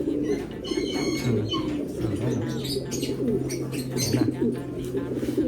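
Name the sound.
pigeons cooing in a loft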